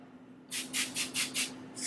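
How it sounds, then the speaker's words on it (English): A Dark and Lovely color spray can sprayed onto hair in four or five short, close hissing bursts after a brief quiet start, with no talking. "spray it on"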